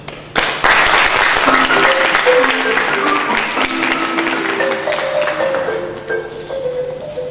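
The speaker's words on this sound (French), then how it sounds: "On va applaudir encore très fort" An audience at the Djeguele Festival 2016 thank-you ceremony breaks into loud, sustained applause that starts abruptly and fills the scene, with faint musical tones running underneath and a slight fade toward the end.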